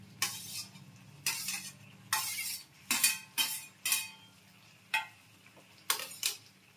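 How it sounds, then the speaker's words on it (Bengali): Pointed gourd and prawns go into a pan of fried spice paste, with a series of distinct scraping, clinking and sizzling bursts from a utensil working the pan, spaced irregularly over a quiet background. "এবার পটলটা দিয়ে দেব, চিংড়ি মাছটাও দিয়ে দেব।"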